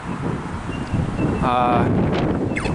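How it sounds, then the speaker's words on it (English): Strong wind buffets the microphone at St Kilda beach, Melbourne, in a steady roaring rush, with a faint tonal whine rising briefly in the middle. "Today it is pretty windy"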